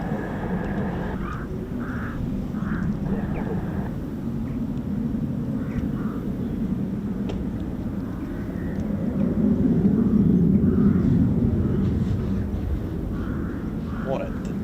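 A flight of three RAF F-35 Lightning stealth fighter jets passes overhead with a long, low roar that swells toward the end, heard from a distance with birds calling faintly now and then.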